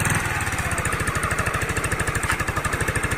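A Honda CBR 150R motorcycle engine idles close by, a steady, rapid, even thumping pulse that runs throughout without any revving.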